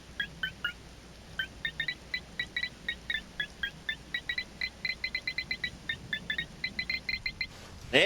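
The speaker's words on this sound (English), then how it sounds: "It beeps really loud." A loud metal detector in the Voices of the Void video game emits bursts of sharp electronic beeps in a quickening, irregular rhythm, clear and close over a low background hum.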